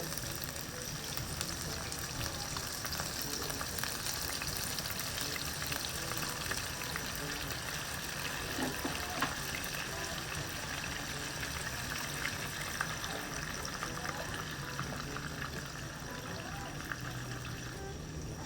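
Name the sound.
pineapple chunks syrup poured into cooking chicken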